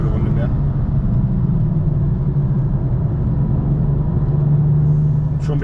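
A BMW M2 F87 engine drones steadily from onboard while lapping the Nürburgring Nordschleife, a loud, continuous rumble holding a near-constant pitch with heavy road and cabin noise.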